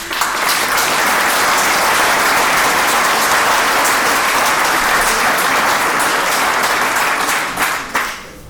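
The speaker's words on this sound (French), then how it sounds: "je pense qu'on peut vous applaudir" Loud, dense audience applause at the inauguration of a new waste sorting centre, steady clapping that holds for about seven seconds before thinning and fading out at the end.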